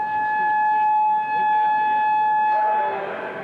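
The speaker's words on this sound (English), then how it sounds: "The siren blared all across the college campus." A steady, droning campus emergency siren wails in the open air across a college campus during a test, sustained and even over the whole stretch, with faint background noise.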